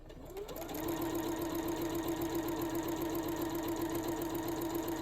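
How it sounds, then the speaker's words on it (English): A sewing machine runs steadily while stitching quilt squares together, its motor humming and needle clattering in a fast, even rhythm that starts up quickly and then holds at a constant pace, close and clear. "your needle and presser foot down and sew."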